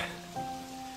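Rain falls in a soft, steady hiss, faint and distant, for a single moment with no voices.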